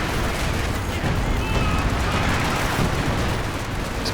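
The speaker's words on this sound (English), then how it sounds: "Coordinated fire artillery and heavy mortar strike." Coordinated artillery and heavy mortar fire in the Company of Heroes 2 strategy game, heard as a dense, continuous rumble of blasts and gunfire, loud and sustained with no gaps.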